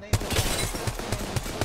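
Rapid bursts of gunfire from the Apex Legends video game, several sharp shots in quick succession over a steady game background, with faint talk underneath.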